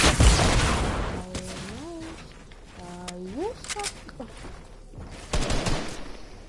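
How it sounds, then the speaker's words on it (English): Shotgun blasts and gunfire in a PS4 battle royale game, heard as sharp loud bursts at the start and end with rising synthetic game tones between, under excited talk. "going for the kill with the shotgun"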